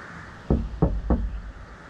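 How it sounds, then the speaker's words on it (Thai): Three firm knocks land on a door fitted with a hasp in an abandoned building, evenly spaced and close, with a quiet room tone before and after. "ผมจะเคาะประตูนะฮะ"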